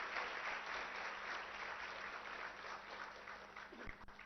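An audience at the WE Hub fifth anniversary event applauds, a broad, continuous wash of many hands clapping at an even level throughout, with a faint low hum underneath.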